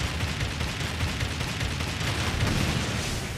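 A level 3 Meteor Shot attack in Crisis Core -Final Fantasy VII- Reunion: a dense, sustained barrage of rapid impacts and booms, loud and continuous throughout.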